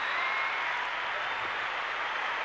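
A crowd applauds steadily after a gymnastics dismount at the 1984 American Cup women's competition, a dense, even wash of clapping that holds at full strength throughout with no clear voices over it.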